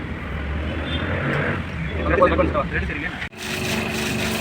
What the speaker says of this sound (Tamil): மோட்ரு ஆன் பண்ணோம் மோட்ரு ஓடுது ஆனால் தண்ணி சம்பில் ஊற்றலை